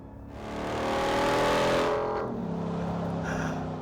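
A 777 hp 2027 RAM TRX pickup truck accelerates at full throttle, its engine roaring loud and close, swelling to a peak before easing into a steady high drone.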